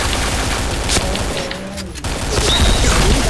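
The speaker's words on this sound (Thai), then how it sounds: "ยิงมันตาย" AK47 fire in a shooting video game, loud sustained bursts of shots with crashing impacts, fairly close and dense throughout.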